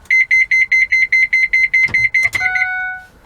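A youth van's child alarm system sounds a rapid, even string of loud, high electronic beeps that shift into one sustained tone, which fades out, with soft handling noises in between.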